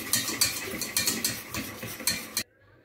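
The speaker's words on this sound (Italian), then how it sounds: "Mescoliamo i 4 tuorli d'uovo con lo zucchero nel frattempo che si scalda il latte" Egg yolks stirred with sugar in a bowl: a rapid run of clinking, scraping utensil strokes against the bowl for over two seconds, close and fairly loud, then stopping abruptly.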